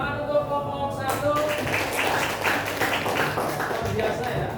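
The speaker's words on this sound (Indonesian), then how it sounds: "Tepuk tangan untuk kelompok 1." A classroom in a geography lesson breaks into applause for group one after its presentation, a brief voice at the start giving way to a dense, rhythmic patter of clapping.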